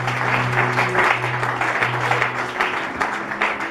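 A church congregation in Congo applauds and acclaims the Lord in sustained, dense clapping over a low droning tone, with no clear speech.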